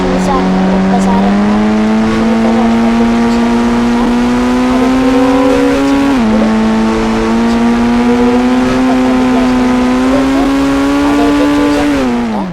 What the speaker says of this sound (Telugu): ఈరోజు అయితే నేను ఫ్రీ ఫైర్లో కొత్తగా అయితే వచ్చిందనమాట ఆ బైక్ అయితే నా ఫేవరెట్